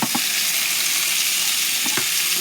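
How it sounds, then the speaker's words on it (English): A boneless ribeye steak sizzles steadily inside a Ninja Foodi XL grill, a constant close hiss with a couple of brief soft knocks, no voices. "I'm fixing me a steak and some french fries in my Foodi grill"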